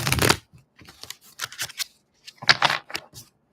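Tarot cards are shuffled by hand, giving quick papery riffles and slaps in irregular bursts, close and fairly loud, with pauses between them.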